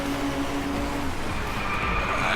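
A Volkswagen GTI Design Vision in the Driveclub racing game brakes hard, with dense, continuous engine and road roar and a thin, rising tyre-squeal tone in the second half, loud and steady throughout.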